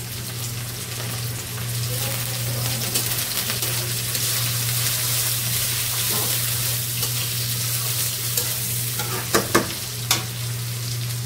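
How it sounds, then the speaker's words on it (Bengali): Onions, green chillies and shrimp fry in a pan with a steady, close sizzle over a constant stove hum, broken near the end by a few stirring clatters. "এই যে পেঁয়াজ আর কাঁচামরিচ দিয়ে দিচ্ছি, একটু চিংড়ি মাছগুলো দিয়ে দিচ্ছি"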